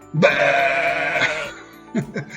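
A sheep on a farm gives one long, wavering bleat nearby, followed by a pause and a couple of short, softer calls at the end.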